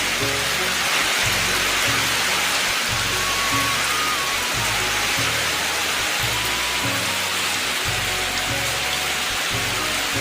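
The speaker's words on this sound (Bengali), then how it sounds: "দেখেন কি বৃষ্টি হচ্ছে ঘুমার মতো বৃষ্টি" Heavy rain pouring down steadily in Nagarpur, Tangail, a dense, unbroken hiss with a faint rhythmic low thumping beneath it throughout.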